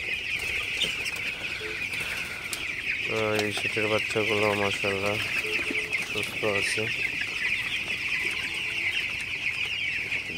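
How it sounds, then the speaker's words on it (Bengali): Young broiler chickens, sixteen days old, cluck and cheep continuously inside a farm shed, with a louder burst of rhythmic calls midway, over a steady background hum and someone talking. "তো মুরগিগুলো পানি খাইতেছে"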